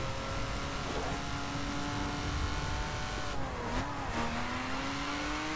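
A car drifting through a corner in the racing video game The Crew at Pikes Peak, its engine droning steadily with a pitch dip and rise as it slides, loud and continuous with no talk.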